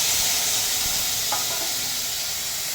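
Tomatoes, green chillies, a garlic clove and a piece of ginger sizzle in hot oil left over from tempering, a steady, close frying hiss with no voices.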